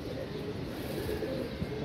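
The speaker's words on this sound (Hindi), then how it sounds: "ये देखें सब कबूतर बच्चे वगैरह" Soft, low cooing of pigeons against a steady background murmur, close by and fairly quiet.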